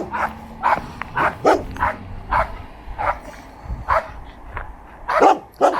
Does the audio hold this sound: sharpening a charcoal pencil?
no